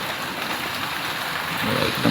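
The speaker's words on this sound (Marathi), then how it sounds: "पाऊस तर चालूच आहे" Steady rain pours outside on a morning in a Maharashtra village, a dense, even hiss that holds at one level and swells slightly toward the end, with no voices.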